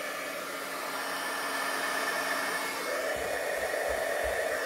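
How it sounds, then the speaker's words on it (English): A heat gun blowing hot air over embossing powder on a rubber stamp, a steady loud whooshing roar held close and unbroken for a few seconds. "I'm just going to shoot it real quick with my heat gun and wipe it off with my coffee filter"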